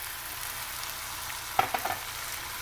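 Tomato passata sauce simmering in a pan with chicken sausage and mushrooms, giving a faint steady sizzle and a few soft stirring scrapes near the end.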